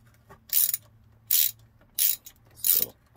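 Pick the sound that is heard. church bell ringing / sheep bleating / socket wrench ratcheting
socket wrench ratcheting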